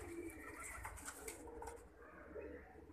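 Pigeons coo softly in a loft of flying pigeons, with low, faint cooing under a steady background hum.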